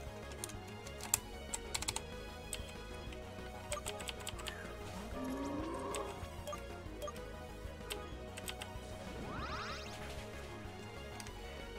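Keycaps being pressed back onto a computer keyboard, a scatter of quiet clicks and taps, a few sharper snaps near the start, with faint game music and sounds running underneath.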